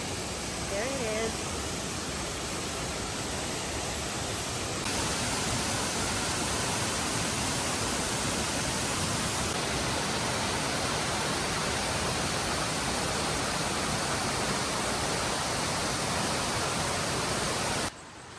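A waterfall in Maragusan pours down in a dense, unbroken rush of white noise that stays loud and even throughout, with no other distinct sounds standing out.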